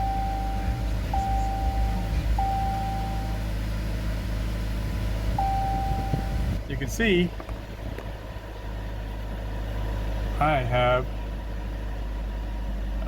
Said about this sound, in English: I'm going to go ahead and start the vehicle.